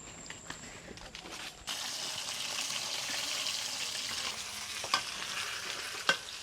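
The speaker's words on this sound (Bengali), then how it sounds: "এত তেল দিয়ে মাছ ভাজতেছিস কে?" Fish frying in a large amount of oil, a loud steady sizzle that starts abruptly and holds, with a few sharp clinks of utensils over it.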